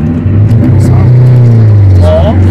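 Car cruising through the streets late at night with a loud, straight-piped exhaust, a deep steady engine drone rising slightly with throttle, with voices talking over it.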